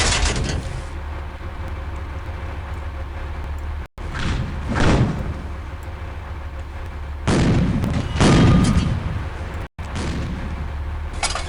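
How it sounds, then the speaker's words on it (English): Heavy tank cannon shots in the Panzer Elite PC tank simulator, two or three deep booming blasts rising above a constant loud engine and track rumble, with no talking. "Target seen. Firing now."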